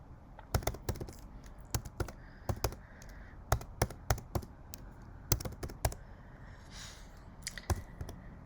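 Payment card details are typed on a computer keyboard, with crisp, irregular keystrokes in short clusters. The clicks sound close and clear over a quiet background.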